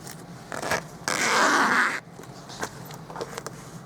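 A zipper on a pouch sewn from a placemat is pulled along in one quick, close rasping run of about a second, set among quieter handling noises.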